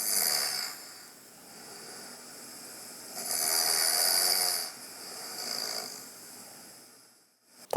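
A father snoring during sleep, heard as a few long rasping breaths spaced several seconds apart, loud and close in a quiet room, each snore swelling and fading with pauses between.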